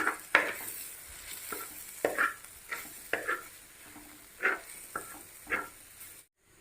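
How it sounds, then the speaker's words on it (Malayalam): A spatula repeatedly scrapes and stirs through a sizzling masala in a pan for fish curry, in uneven strokes every second or so, with soft frying underneath. "ഇതും പച്ചമണം മാറുന്നവരെ വഴറ്റിയെടുക്കണം"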